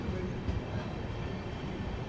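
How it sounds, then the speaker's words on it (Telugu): An express train pulls in at platform 4 of Tenali Junction, a steady broadband rumble of rolling stock that holds even and moderately loud throughout with no distinct clatter. "తెనాలి జంక్షన్కి మన ట్రైన్ ప్లాట్ఫామ్ 4కి అయితే వచ్చింది"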